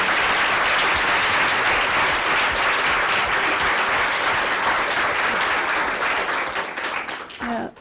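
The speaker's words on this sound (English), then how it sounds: "let's have a round of applause for all of our speakers" A large audience at a research celebration event claps steadily and loudly for several seconds, the dense applause thinning and fading out near the end.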